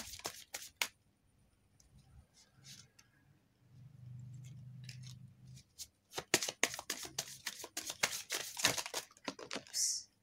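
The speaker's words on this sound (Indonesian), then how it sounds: "Oke, kita tarik 3 kartu lagi." Tarot cards being shuffled and drawn, close and crisp, with a low rustling passage before a run of rapid flicking and snapping of cards toward the end, no talk over it.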